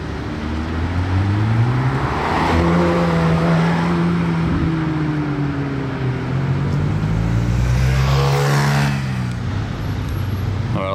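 A red McLaren 750S supercar approaches from a distance and drives past, its engine note rising and falling as it nears and then recedes, loud and continuous over steady roadside traffic noise.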